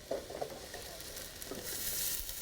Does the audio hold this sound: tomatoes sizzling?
yes